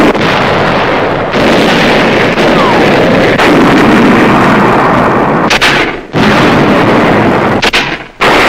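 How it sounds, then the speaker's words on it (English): WWII American tank and mortar fire pounds German hillside strongholds, a loud, continuous roar of blasts and rumble with brief drops between, like an old film soundtrack. "American tanks and mortars now blast German hillside strongholds in the center."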